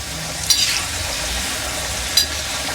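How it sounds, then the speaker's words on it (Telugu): Masala peanuts frying in a pan with a steady close sizzle and crackle and two brief sharp clinks of stirring, no voices. "ఇంకొంచెం వేగితే అయిపోయింది."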